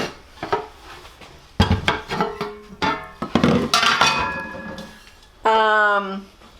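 KitchenAid pans with three-layer non-stick coating being handled nearby: a series of metallic clanks, knocks and ringing clinks at close range, ending in a brief sustained metal ring.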